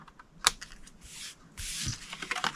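Cardstock being cut with scissors or a trimmer, a few soft close snips and a brief scraping slide, faint and quiet with no talking.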